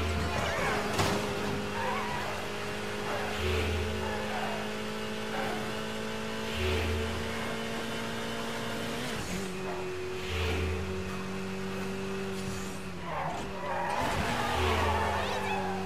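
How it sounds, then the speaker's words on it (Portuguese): Car in Midnight Club Los Angeles braking and skidding: a steady engine drone with rising and falling tire squeals and screeches, fairly loud and continuous, with brief muffled bumps. "Vocês estão vendo que eu tô freando bem mais"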